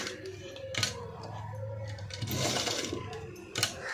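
A sewing machine runs steadily as it stitches along the buckram-backed neck of a padded cut-work blouse, a continuous close mechanical whir with a few sharp clicks and brief pauses.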